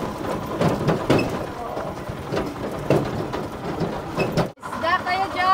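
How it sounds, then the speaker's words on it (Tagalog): Steady rain pours down outdoors, a dense hiss that fills the scene while people talk nearby, with a brief drop-out near the end. "Raining now."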